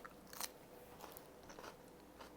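Someone bites into a crunchy homemade garlic dill pickle with chili pepper, giving one sharp crisp crunch followed by a few softer chewing crunches, close but quiet.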